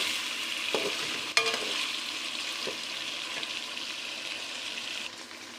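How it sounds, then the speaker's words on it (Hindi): Meat browning with ginger garlic paste in a karahi, a steady hiss of frying with a few clinks of stirring near the start, continuing without talk. "अब हम इसमें अदरक लहसुन का पेस्ट शामिल कर देंगे और इसे मज़ीद 3 से 4 मिनट मज़ीद भून लेंगे।"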